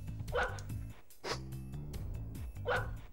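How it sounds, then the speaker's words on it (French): Cartoon dog barks from The Grinch on PS1, triggered by a button press: three sharp, close barks spaced about a second apart, each with a tonal, yelping character, heard alone. "quand on appuie sur croix, ça aboie"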